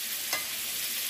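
Eggs frying in bacon fat and butter in a pan, a steady close sizzle with a brief scraping stir near the start, no voices.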